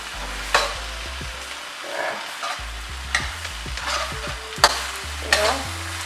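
Onions being pushed, tossed and turned in a hot pan for vegan drunken noodles, a steady close sizzle broken by repeated scraping stirs and clattering tosses.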